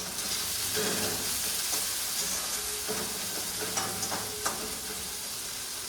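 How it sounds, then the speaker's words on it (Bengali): Bitter gourd fries in a pan with a steady, dense sizzle, broken by occasional scraping and clinking as it is stirred. "এদিকে উচ্ছে ভাজা হোক"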